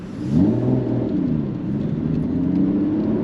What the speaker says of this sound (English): induction noise, exhaust noise.